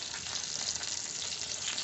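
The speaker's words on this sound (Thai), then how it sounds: "นี่กำลังเดือดเลย" A fish steak fries in boiling oil, giving a dense, even, close sizzle that holds steady without a break.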